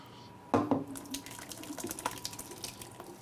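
Pasta sauce for an Italian sausage and farfalle dish poured into a pan, a soft wet splattering gush that starts abruptly and then trickles and drips quietly, close and faint.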